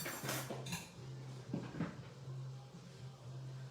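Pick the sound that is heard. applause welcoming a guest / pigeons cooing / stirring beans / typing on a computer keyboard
stirring beans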